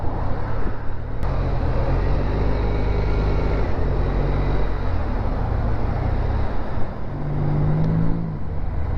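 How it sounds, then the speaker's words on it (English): Continuous road traffic on a Washington DC street, a steady low rumble of car engines and tires with vehicles passing and accelerating, loud and close throughout, no voices. "Look at this, just never ending traffic"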